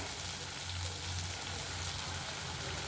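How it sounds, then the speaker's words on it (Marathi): Tomatoes sizzle steadily in hot spiced oil tempering (phodni) for moong dal, a dense, continuous crackling hiss with no pauses and no talk. "हे टोमॅटो आपले परतत आलेले आहेत खमंग अशी ही फोडणी आपल्याला परतून घ्यायची"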